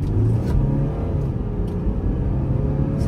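A luxury SUV accelerates hard from a standstill with a kick-down gear change, its engine giving a steady, loud, close rumbling roar throughout.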